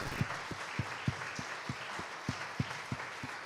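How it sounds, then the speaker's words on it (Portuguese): A church congregation standing and clapping together in a steady rhythmic beat, about three claps per second, even and moderately loud against a soft background hum, with no voices over it. "Fica de pé e aplauda Jesus."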